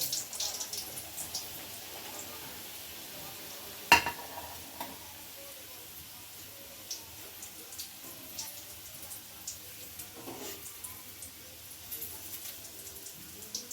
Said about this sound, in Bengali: এইভাবে লো ফ্লেমে আমি ভেজে নেব স্প্রিং রোলগুলোকে